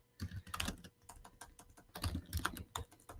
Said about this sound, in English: I always get into this with my typing